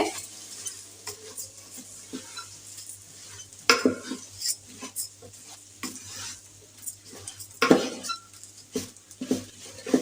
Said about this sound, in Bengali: ডাল চালগুলো এখন একটু ভেজে নিতে হবে